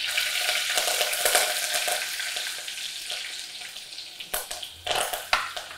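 Curry leaves and chillies crackle loudly in hot oil at first, then the frying eases into a softer sizzle broken by several sharp spatters and utensil knocks near the end.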